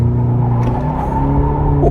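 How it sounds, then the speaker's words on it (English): A 2021 Cadillac CT5 Premium Luxury, a rear-wheel-drive sedan in sport mode, holds a brake-torque launch as its engine revs loud and steady with a deep harmonic drone, the pitch climbing near the end. "So I'm gonna put my foot on the brake and accelerator."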